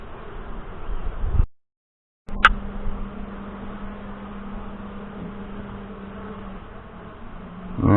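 Saskatraz honey bees drone steadily around an open hive in northwest Wisconsin, a low continuous buzz broken by a short dropout to silence, then resuming alongside a faint steady hum.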